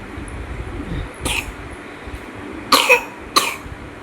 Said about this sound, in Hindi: इसे बहुत ज़्यादा खांसी हो रही है